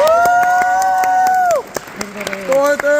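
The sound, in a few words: audience applause welcoming a speaker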